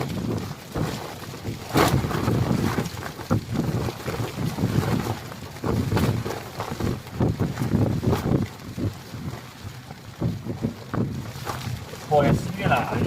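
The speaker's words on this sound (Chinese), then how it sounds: "帐篷都要吹垮了，那么大风" Strong wind batters a tent at a high-plateau grassland campsite, gusting in heavy, uneven blasts that buffet the microphone, with a person speaking between the gusts.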